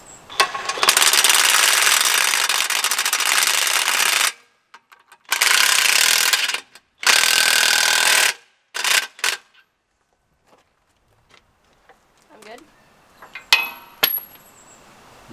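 A tool tightens bolts back up on a strip-till implement, giving loud mechanical bursts of a few seconds each, then short clicks and clanks with faint activity nearby.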